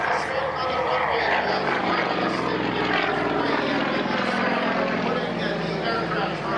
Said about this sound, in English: Trevor Rafferty at the controls of the Pitts Model 12. Diving into the showbox from our left, lots of airspeed here.